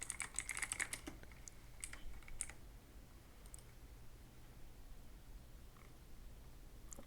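Computer keyboard typing in quick bursts of clicks, busiest in the first few seconds and then thinning to sparse taps over a low steady hum, fairly close and moderately quiet.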